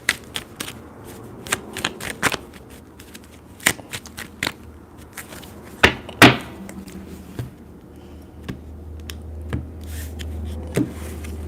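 Tarot cards are shuffled by hand close by, sharp irregular riffles and slaps scattered over a low steady background hum, with one louder flurry partway through.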